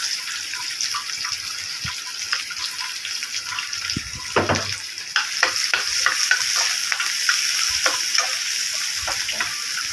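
Chopped onion and green chili fry in a little oil in a pan, a continuous sizzle broken by scraping stirs and clinks of a spatula, with a louder burst of crackling partway through.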